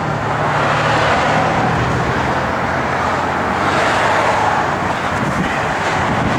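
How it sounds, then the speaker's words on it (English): Car with a 1971 340 engine and an H-pipe Flowmaster dual exhaust, a continuous low engine rumble heard alongside broad road noise, steady and moderately close. "Car's got a good sound. It's got an H-pipe Flowmaster dual exhaust system on it."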